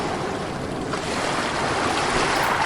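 Steady ocean surf washes in a continuous broad roar, loud and close, with a slight swell as a wave breaks around the middle; no voices.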